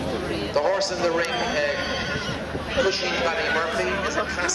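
A bay stallion whinnies loudly in a show ring at a horse show, with hoof clip-clop and a murmuring crowd, while a commentator keeps talking throughout.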